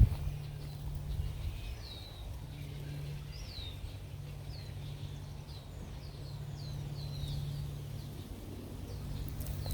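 Birds chirp and twitter in quick short calls at Boulder Ponds against a low steady background hum, fairly distant and soft.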